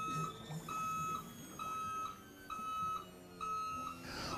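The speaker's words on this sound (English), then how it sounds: "you can push the swim platform up button. Again, you will hear that alarm go off." A steady electronic alarm tone beeps in repeated bursts, about five half-second pulses evenly spaced, with faint background noise between them, as the swim platform of a Cobalt A36 boat raises.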